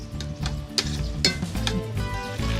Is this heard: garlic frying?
yes